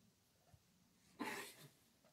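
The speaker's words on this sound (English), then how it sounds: "Why are you coughing?" A single rough, breathy cough from a sheep bursts out once, fairly faint and at a distance, against a quiet outdoor background in a corn stalk field.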